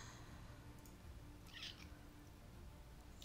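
A house cat lets out a single faint, brief meow, heard softly over a low, quiet background hum.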